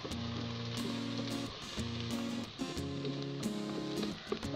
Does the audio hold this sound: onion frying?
yes